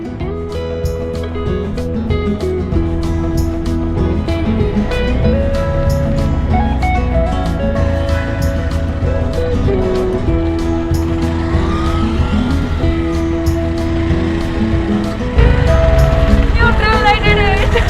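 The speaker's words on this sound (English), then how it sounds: "try and drive the tuk-tuk on my own, learn how it works" A tuk-tuk is driven on a practice area along the Sri Lankan coast, its small engine puttering and buzzing steadily throughout with rising and falling revs, while someone talks over it.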